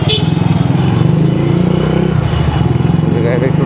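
A modified Honda CG125 motorcycle engine revs hard in quick pulsing bursts, loud and close, with a voice talking over it.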